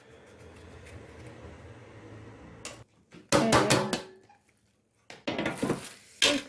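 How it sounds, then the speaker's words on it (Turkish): Tomatoes are chopped and dropped into a pot for homemade tomato paste, with bursts of sharp knocking and clattering against the pot between quiet pauses; one short spoken word comes early. "tenceremizi doğrayarak doldurmaya devam ediyoruz"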